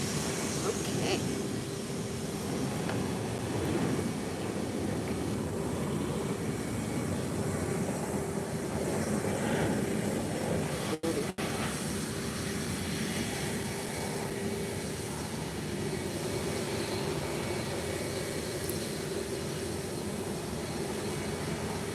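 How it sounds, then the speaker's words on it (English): Loud, steady jet engine roar from a Boeing 787 Dreamliner taking off at Málaga Costa del Sol Airport, a continuous broadband rumble that holds level for the whole stretch with no talk over it. "That was an awesome 787 Dreamliner takeoff."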